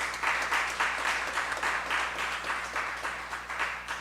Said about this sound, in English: Give him a love round of applause.